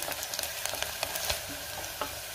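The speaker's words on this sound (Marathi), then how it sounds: "कांदा मी 1 मिनिटभर परतून घेणार आहे" Onion sautéing with curry leaves in a pan, a soft continuous sizzle broken by faint scraping stirs, quiet and close with no talking.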